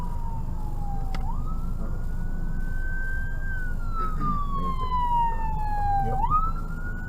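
An emergency siren wails up and down continuously, moderately distant, over low traffic rumble.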